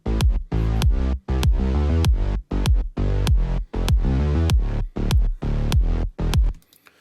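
A deep bass line plays in short repeated notes with a punchy kick drum hitting on the beats, loud and up close, ending abruptly.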